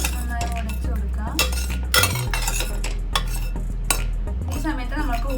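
Cooked dal is stirred and mashed with a ladle inside an opened pressure cooker, for a Kerala-style parippu curry, with repeated metallic scrapes and clinks against the pot over a steady tonal background.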